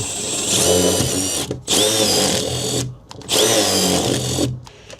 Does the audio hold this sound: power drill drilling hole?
yes